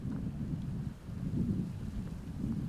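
Wind blows steadily by a river at a disc golf tee, a low buffeting rumble against the microphone that swells and dips with gusts, with no talking.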